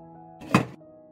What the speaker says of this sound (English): I put the pot on the stove and cover it.